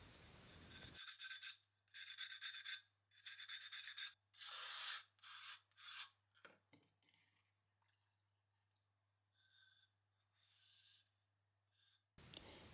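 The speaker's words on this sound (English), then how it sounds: "I also sand the joint to create a perfect snug fit." Abrasive sanding strokes on the joint of a thrown ceramic cat-shaped jar lid come in close, dry bursts of rasping, first steady and rhythmic, then shorter and lighter, set against near silence.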